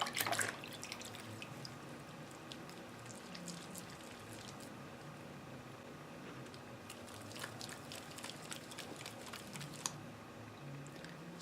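Homemade shower jelly dropped into water produces soft, scattered drips and small splashes, quiet and intermittent, with a sharper splash at the start and clusters of light wet clicks later.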